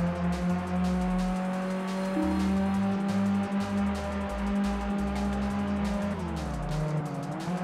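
An Aston Martin race car with a Power Pack 3 upgrade roars in Test Drive Unlimited on PS2, its engine rising and dropping through repeated gear changes, loud and steady with a faint tire squeal.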